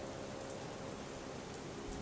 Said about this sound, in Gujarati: બનાસકાંઠામાં જે પ્રમાણે સતત વરસાદ વરસી રહ્યો છે